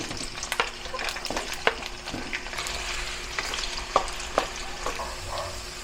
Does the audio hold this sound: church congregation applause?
no